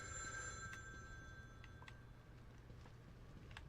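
A payphone rings inside a horror video game, a clear repeating electronic bell trill standing alone over a steady low hum.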